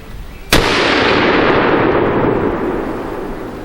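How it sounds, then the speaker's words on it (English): A single loud rifle shot from a Desert Tech HTI at a SHOT Show range cracks sharply. A long, rumbling echo follows and fades slowly over the next few seconds, with no talking. "Final shot in that 5-round group."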